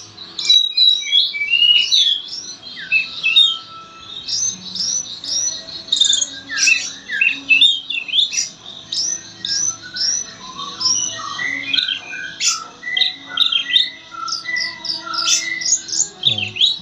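A caged kacer (Oriental magpie-robin) sings loudly and continuously in varied whistles, chirps and squawky phrases, answering a murai song close by.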